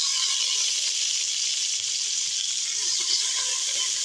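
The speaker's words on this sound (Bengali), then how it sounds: "তো প্রথমে আমরা দিয়ে দিলাম পেঁয়াজ কুচি, তারপর দিচ্ছি তেল" Chopped onions hit hot oil in a pan, producing a loud, even, continuous sizzle that holds steady throughout with no talking.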